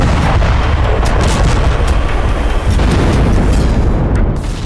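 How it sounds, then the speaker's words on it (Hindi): Airstrike explosions pound residential buildings in Lebanon as a fireball rises, producing a loud, continuous rumbling roar with dense crackling bursts that never let up. "जोरदार धमाकों के साथ उठता आग का गुबार।"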